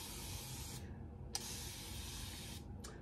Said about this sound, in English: let me spray it with water,